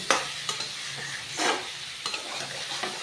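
A spoon stirs rohu fish curry with eggplant and potato in a pan, scraping in short repeated strokes over a steady frying sizzle, heard close with no voices.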